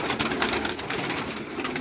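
Pigeons coo on a rooftop loft in Karachi, a close, soft, repeated burbling over a short stretch, with no voices.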